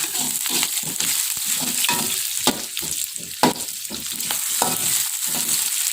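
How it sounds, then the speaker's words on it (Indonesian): Onion frying in a pan for sweet-and-sour fried eggs, stirred with a utensil: steady close sizzle broken by repeated scraping strokes in an irregular rhythm, with no voices. "kita aduk-aduk."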